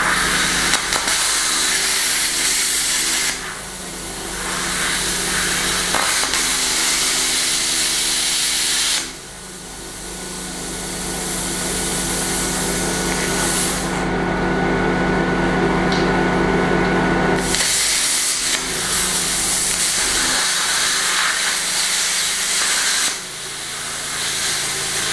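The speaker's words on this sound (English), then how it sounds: "I've got to run the massive compressor and the plasma cutter" A plasma cutter driven by a large air compressor cuts through steel welds on a BBQ smoker build. A loud, steady hiss and roar carries on in long stretches, broken by brief pauses when the cutting stops.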